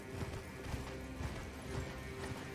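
Galloping hoofbeats from a horse in Elden Ring, evenly spaced thudding strides repeating over a constant ambient game bed, fairly close and steady with no talking.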